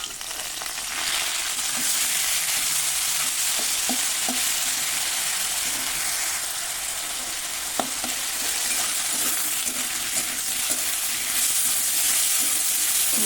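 Chopped onion fries in a pan with already browned potatoes, giving a loud steady sizzle and hiss broken by occasional sharp clicks of a spatula stirring, heard up close without talk.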